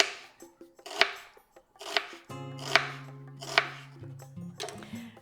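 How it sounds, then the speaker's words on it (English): Parsley and red onion are chopped with a knife on a board, five or so crisp, evenly spaced chops with softer taps between, close and clear, with a low hum in the background. "So let's just chop our parsley finely. And finally chop some of the red onion."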